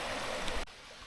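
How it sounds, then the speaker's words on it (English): Steady rushing creek water flows close by in woodland for most of the moment, then cuts off abruptly, leaving a quiet outdoor hush. "Here's the creek."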